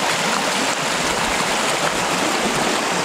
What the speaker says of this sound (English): It was just pouring off the ridge behind us.